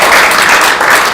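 Audience applause for a lawmaker at a Liberty Korea Party lecture on nuclear power, a steady dense wash of clapping with no voices over it.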